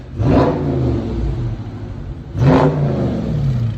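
A 2020 Dodge Charger Scat Pack's 6.4L V8, stock before a mid-muffler delete, blips twice, loud and close, each rev swelling quickly then dropping back into a low, steady burble.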